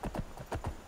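Video game sound of a horse galloping in Permadeath Wildlander: hooves clop in a quick uneven rhythm, a handful of heavy thuds close by, with no talking.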